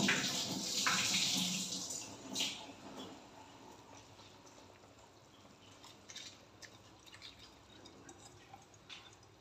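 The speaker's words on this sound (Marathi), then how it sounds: "ह्याच्यामधलं आपण पाणी रिमूव्ह करून तो बासमती राईस ह्याच्यामध्ये ॲड करूया" Water is drained off soaked basmati rice, which is then added to boiling water in a kitchen pot, giving a gushing pour at first that settles into quieter splashes and drips.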